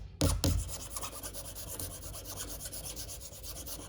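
A metal file rasps along the edge of a printmaking plate held at a shallow angle to bevel it, with two strong strokes at the start followed by lighter, steady rubbing close by.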